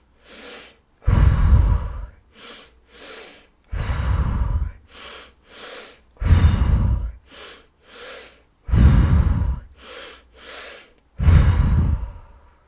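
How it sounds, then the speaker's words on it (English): A person repeats a breathing exercise, two short sharp sniffing inhales followed by a longer hissing exhale, in a steady cycle close to the microphone, with no talking. "2 short inhales, a longer exhale"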